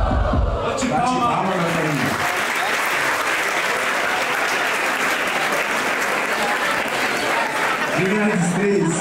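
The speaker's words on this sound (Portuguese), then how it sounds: "Bate palma" A crowd at a rap battle applauds loudly in a continuous, dense roar of clapping, with voices talking over it at the start and again at the end.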